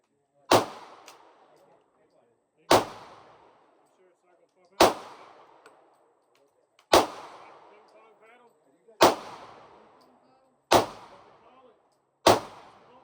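Seven sharp Glock 23 pistol shots crack at an outdoor shooting range, spaced about two seconds apart, each loud and close with a brief ringing tail.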